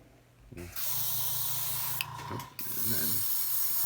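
A steady, close hiss of an airbrush spraying paint, briefly interrupted by short pauses and faint clicks before resuming at full strength.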